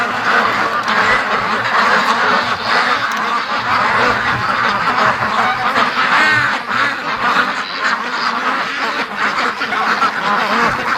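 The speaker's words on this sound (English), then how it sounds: "Oh, I spooked them when I came out." A flock of free-range ducks quacking loudly and continuously after being spooked, a dense, close chorus of overlapping calls with no pauses.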